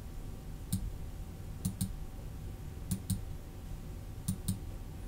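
Sharp, close computer mouse clicks come in quick pairs and singles, about seven in total, spaced across a quiet room background with no voices.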